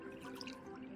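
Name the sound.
pouring off excess milky liquid into a container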